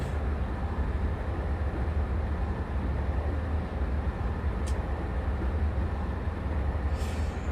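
A Class 150 diesel train in the Open Rails simulator gives a steady low rumble of engine and wheels, continuous and fairly loud throughout, with faint brief hisses near the end.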